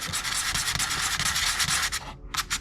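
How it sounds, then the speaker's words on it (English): Someone sands a small spot on an RC car's surface, making brisk, rhythmic rubbing strokes close by. The scraping breaks off briefly near the end. "So sand where you're gonna put it."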